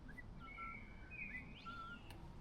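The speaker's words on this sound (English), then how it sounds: "Can you hear the birds talking to each other?" Faint bird chirps and thin whistled calls sound from a distance over a soft, constant outdoor rumble.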